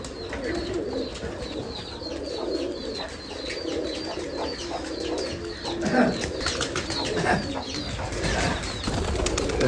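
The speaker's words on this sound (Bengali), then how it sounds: "এখানে কবুতর এখানে কবুতর নিচে কবুতর কোমরে কবুতর ওখানে কবুতর" Giribaz pigeons at a large pigeon farm with about 150 birds, a dense bed of overlapping soft coos with wing flaps and rustling throughout.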